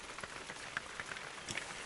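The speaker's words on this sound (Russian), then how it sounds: "7 часов вечера, и у нас дождяра херачит, блин." Heavy evening rain pours steadily onto a surface at a camp by a taiga river, a faint, continuous hiss with scattered drop impacts and no voices.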